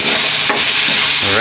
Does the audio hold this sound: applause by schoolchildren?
no